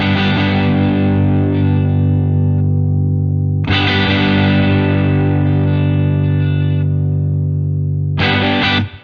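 An electric guitar through a Boss OD-3 overdrive pedal on the neck pickup rings out in long sustained chords, thick and saturated, brighter and pushed, with pauses between strums and no voices.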